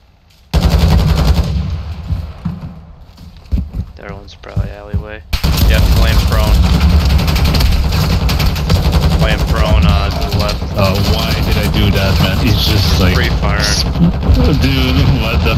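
Rapid automatic gunfire in the online shooter Gunfight, loud and sustained bursts after a short quieter stretch, with players talking over it.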